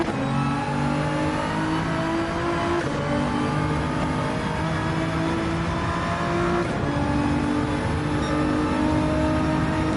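Nissan GT-R engine in Gran Turismo 7 roaring at high revs, with long climbing tones through the gears and short dips at the shifts, loud and sustained with no voices.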